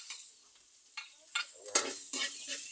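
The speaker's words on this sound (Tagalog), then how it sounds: "Magigisa na tayo ng bawang. At igigisa na muna natin ang suso." Garlic and snails sautéing in a pan: intermittent stirring scrapes and rattles over a faint sizzle, several distinct strokes, close and moderately quiet, no talk.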